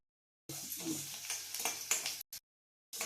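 Onions sautéing in a pan for upma: sizzling and stirring start abruptly after a short silence, with spoon scrapes, then break off and return briefly.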